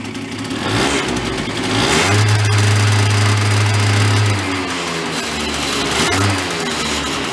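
Old broken scooter engine revving, a steady mid-pitched drone that swells into a louder sustained rev, then settles back to a rough idle, close by with no talking.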